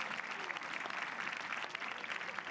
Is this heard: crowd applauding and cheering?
yes